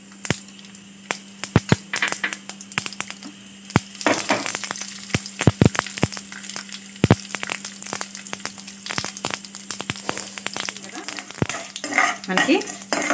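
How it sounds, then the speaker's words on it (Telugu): Tempering spices and mustard seeds sizzle in hot oil in a pan, a soft steady frying hiss punctuated by frequent sharp pops, crackles and spoon clinks against the vessel, with a low hum underneath. "ఇప్పుడు మనం పోపు దినుసులు వేసుకుందాం."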